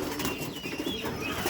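Domestic pigeons kept in a home loft coo softly and steadily over a constant background hiss, with faint bird calls mixed in and no voices.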